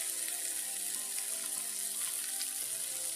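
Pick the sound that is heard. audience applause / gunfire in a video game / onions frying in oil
onions frying in oil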